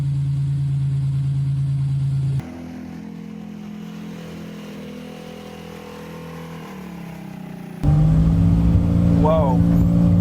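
Engine of a homemade African three-wheel car, the Gravity Blackbird, running with a steady mid-pitched drone that drops quieter partway through, then returns louder and rougher near the end.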